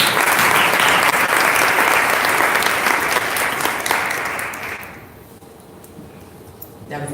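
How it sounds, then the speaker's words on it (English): Loud, dense audience applause at a Denver's Road Home Givers Summit, sustained and close for about five seconds before thinning and fading into a quieter room. "give yourselves a round of applause"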